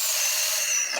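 A power drill with a half-inch spade bit bores into wood framing between the studs of an old house. It gives a continuous bright whirring grind for about a second, close and loud, then cuts off abruptly.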